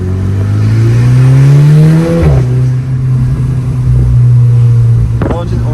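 A Volkswagen Golf 6 GTI ED35 engine revs up and settles, its pitch climbing then dropping, with a second rev near the end. Loud and close, heard from inside the car while people talk over it.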